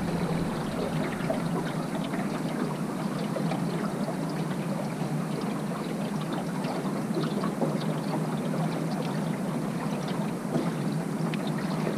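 A restored 1989 jon boat cruising on open water makes a steady, loud, unbroken wash of motor, water rush and wind buffeting, with no talking.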